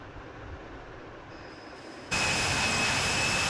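Air India Airbus A330 jet engines roar on takeoff in a flight simulator game, a low rumble that suddenly jumps to a loud, steady, broadband thrust roar with a thin high whine on top.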